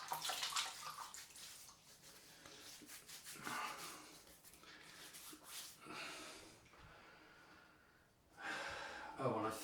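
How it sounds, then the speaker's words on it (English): Water splashed onto a face by hand before a straight-razor shave, with wet slapping and rubbing, running water and sharp breaths, close and fairly quiet, ending in a louder burst of splashing. "let's get some water on the face"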